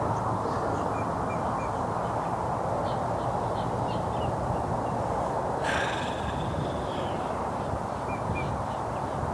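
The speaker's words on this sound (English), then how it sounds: "All the birds are very shouty around here." Wild birds calling loudly near water in Florida, harsh caws and chirps standing out above a steady noisy outdoor background, with one louder burst of calls midway.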